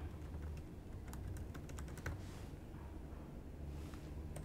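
Fingers tap on a computer keyboard in a quiet room, a soft, fast run of light key clicks with brief pauses, faint and close.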